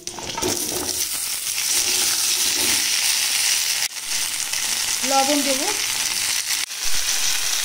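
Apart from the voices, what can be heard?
frying taro in a pan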